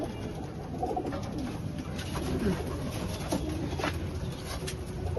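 Several pigeons coo in repeated low, rolling calls close by, overlapping against a steady background of rustling, wing shuffles and faint distant noise, with no one talking.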